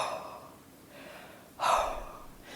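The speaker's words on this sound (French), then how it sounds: "on prend le temps de bailler et on recommence" A person yawns during a jaw relaxation exercise, giving soft breathy exhalations that swell into one louder open-mouthed yawn-like gasp midway, then trail off, with no talking.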